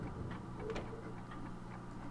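A clock ticks in the video game Alan Wake, faint regular ticks set against a low ambient background hum, steady and unhurried, with no talking.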